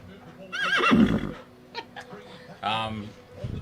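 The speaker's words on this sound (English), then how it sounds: "I put a whining horse sound." A horse whinny sound effect played from a streaming soundboard rings out loud and close with a wavering neigh, followed by short snorting bursts, while people talk around it.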